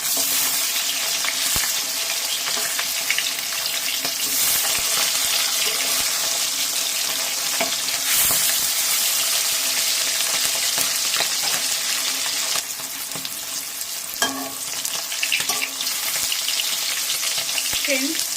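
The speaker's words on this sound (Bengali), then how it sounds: "তেল ইলিশ মাছ কিন্তু বেশি ভাজতে নেই তাই হালকা ভাজাতে আমি এটাকে উল্টে দেবো" Hilsa fish frying in hot oil, a continuous loud sizzle and crackle with occasional light clinks, steady and close throughout.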